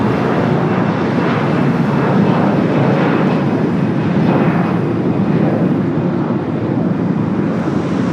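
Airliner taking off from runway 25 right at LAX, a loud, continuous broadband engine roar with wind buffeting the microphone, steady throughout with no talking.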